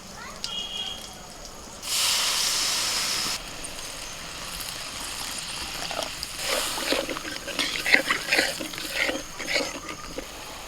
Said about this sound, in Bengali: মশলা কষানো হয়ে গেছে, এবার জল ঢেলে দিচ্ছি।